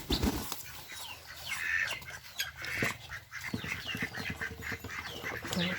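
Ducks in a wooden duck coop built from Payung timber, quacking and calling in repeated bursts at moderate distance, with a few sharper cries over a steady low background.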